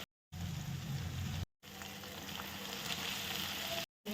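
Cooked peas and potatoes go into masala frying in a pan, a steady loud sizzle and bubbling hiss that runs on continuously, broken by two brief silent gaps.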